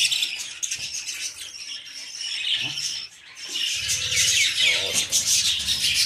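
Australian budgerigars, rainbow and cobalt breeding pairs kept in an aviary, chirp and chatter in a steady busy stream of high twittering calls, with some low rustling underneath and no one talking.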